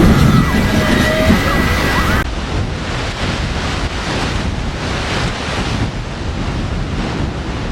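Strong winds from Typhoon Danas lash the southeastern Chinese coast of Zhejiang province, producing a loud, constant roar of wind buffeting the microphone mixed with surging surf, heavy and unbroken throughout.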